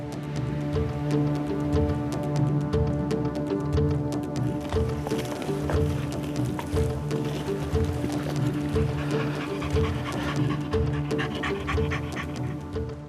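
Hunting dogs panting rapidly and steadily nearby after working a fox hunt in reeds, a continuous rhythmic huffing with scattered rustling and movement underneath.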